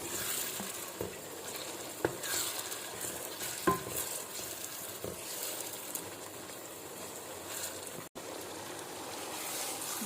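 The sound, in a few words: matar keema being stir-fried (bhunai) on high heat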